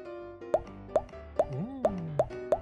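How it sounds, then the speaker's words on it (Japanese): A dinosaur-shaped push pop fidget toy popping, six crisp plops at a steady pace, close and clear with no talk. "今日は恐竜型のプシュポップで遊びます"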